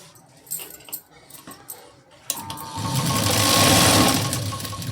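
After a brief stretch of quiet handling noises, an electric sewing machine starts up and runs steadily, loud and close, stitching along the edges of a decorative work sleeve for a blouse.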